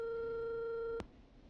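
A telephone busy tone from the video game Killer Frequency sounds as one steady electronic beep, clear and close, cutting off abruptly about a second in and leaving faint room noise.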